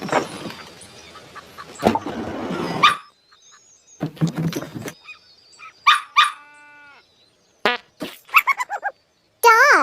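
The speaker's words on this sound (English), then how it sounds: "Dog." A dog barks in several sharp bursts with gaps of silence between them, close and fairly loud, mixed with other short animal-like noises.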